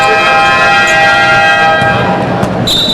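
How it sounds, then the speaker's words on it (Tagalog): A loud, sustained electronic horn blares across an indoor PBA basketball arena during a Barako Bull versus Talk 'N Text game, a steady tonal blast held for the whole stretch over crowd noise. "Then may inadvertent horn na naman tayo."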